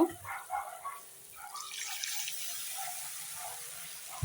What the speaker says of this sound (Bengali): এখন একটু আমি জল দিয়ে জল দিয়ে কষিয়ে নেব